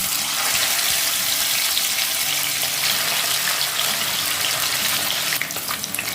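Pieces of katla fish sizzle loudly in very hot oil, a dense, continuous crackling hiss that stays steady and close the whole time.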